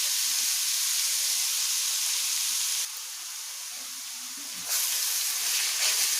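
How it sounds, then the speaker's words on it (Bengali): Grated carrot frying in a pan over medium-high heat for carrot barfi halwa, a steady broadband sizzling hiss that dips briefly in the middle and then returns, with no talk. "এখন এটাকে আমি মিডিয়াম টু হাই আছে ভেজে নিচ্ছি।"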